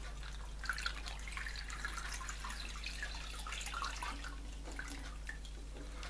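Water trickles from a one-litre bottle into a 2-litre AOTU hydration bladder, a faint, quiet gurgle and drip over a low steady hum, with no talking.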